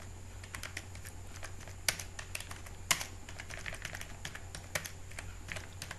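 Steady typing on a computer keyboard during data entry work, quick irregular key clicks with a few louder taps, close and alone over a faint electrical hum.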